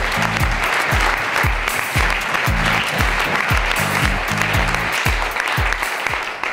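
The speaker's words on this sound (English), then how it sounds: "a big applause, first of all, to you all, guys." Loud, dense applause for the winning hackathon team fills the room, steady throughout with low thumping beneath the clapping.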